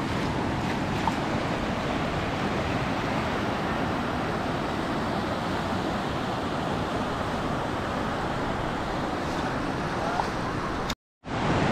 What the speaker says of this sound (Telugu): అలలు మాత్రం ఒక రేంజ్లో వస్తున్నాయి